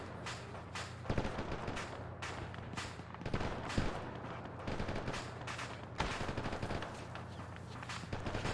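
Sustained automatic and rifle gunfire from an Arma 3 battle at a Romanian bridgehead, dense bursts and single shots cracking continuously over eight seconds, some close and loud, others more distant.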